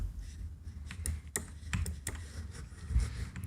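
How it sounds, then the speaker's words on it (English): A computer keyboard and mouse click nearby, with a handful of sharp, irregular taps and clacks spread over a few seconds against a low background hum. "Only downside is that the keyboard and mouse a little bit loud"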